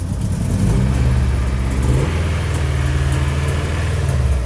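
A Nissan S13 engine runs roughly with vacuum leaks, giving a steady, loud mid-pitched drone that swells briefly and then settles into an uneven idle-like hum.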